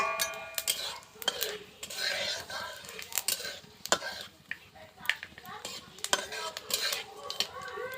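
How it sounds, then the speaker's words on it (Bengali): Panch phoron and dried chillies hit hot oil in a pan, giving irregular crackles, spatters and utensil clinks close by, with soft speech-like sounds in the mix. "পরিমাণ মতো তেলটা গরম হয়ে এলে পাঁচ ফোড়ন আর শুকনো লঙ্কা দিলাম তেলের উপর"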